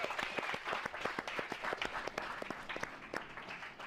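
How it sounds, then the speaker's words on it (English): Applause from a crowd at a season-finale racing series event at a circuit track, a run of distinct, fairly sparse hand claps from a modest group, moderately distant and fading slightly toward the end. "big cheer for Super Seal"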